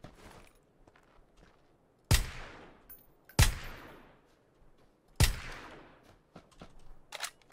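Three loud, sharp VSS rifle shots in PUBG, spaced about a second or two apart, each with a quick decaying tail, over faint clicks and footsteps, with no voices.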